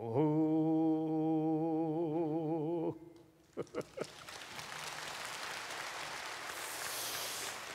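Audience applause at a traditional Korean music concert, following a wordless mouth-sung imitation of a melody. A steady sung voice with wavering pitch holds for about three seconds, then a few sharp claps lead into sustained, broad applause that continues to the end.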